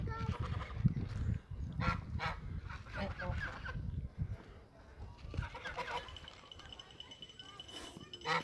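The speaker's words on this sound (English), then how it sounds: "The duck." Honking duck calls sound repeatedly at close range on a farm amid background chatter and people talking.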